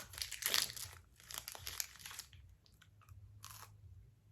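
Biting and chewing a crunchy Fifth Avenue peanut butter candy bar, with several close crisp crunches early on, then quieter intermittent chewing and a faint wrapper crinkle over a low background hum.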